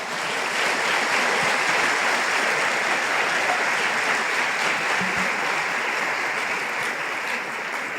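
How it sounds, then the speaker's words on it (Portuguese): A church congregation claps steadily and densely for the whole stretch, a broad, even wash of applause filling the sanctuary at constant loudness. "Você pode aplaudir o Senhor?"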